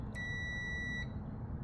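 A single steady electronic beep, just under a second long, from a continuity tester touched to a replacement part for a Whirlpool/Kenmore electric dryer, clear over a low background hum.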